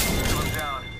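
Video game gunfire crackles as a dense burst for about half a second, loud and close, then trails off into a fading tail with voices mixed in.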